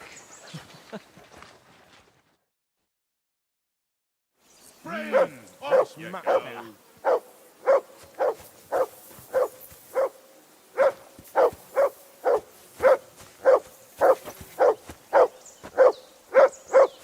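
A dog barks repeatedly in the medieval game Kingdom Come: Deliverance II by a riverbank camp, an even series of loud, regular woofs after a short stretch of speech and a silent gap.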